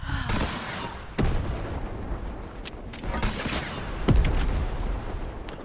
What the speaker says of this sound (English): Rocket, dude, rocket.